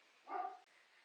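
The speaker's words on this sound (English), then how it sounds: "the dog's in the background" A dog barks once or twice somewhere outside, faint and brief in the background of a quiet room during a quilting work session.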